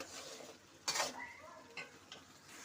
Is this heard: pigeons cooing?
no